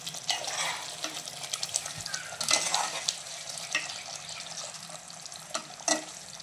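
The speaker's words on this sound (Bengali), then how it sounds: "মাংসটা ভালোভাবে কষানো হচ্ছে।" Meat with leg pieces being fried and stirred in a pan, a steady sizzle broken by repeated scraping and stirring clatters, close and alone with no talk.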